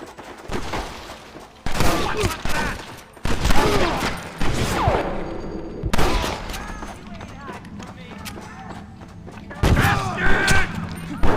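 Gunfire in a Red Dead Redemption shootout: loud bursts of rapid shots and booming blasts in several clusters, close up, with voices shouting between and over the volleys.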